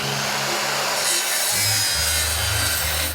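A chainsaw cuts through a chocolate bar with a loud, continuous rasping buzz; the engine's low drone shifts pitch partway through as the chain bites, with no voices.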